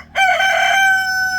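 A single hen on an off-grid Florida homestead gives one loud, drawn-out crowing call close by, holding a steady tone for over a second, with no talk over it.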